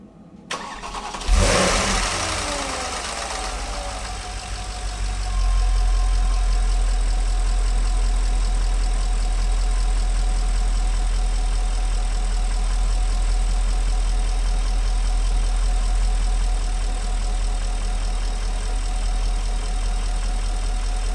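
A Porsche Panamera engine cranks and fires up after an oil change, then settles into a steady, deep idle rumble that continues evenly and close by with no voices.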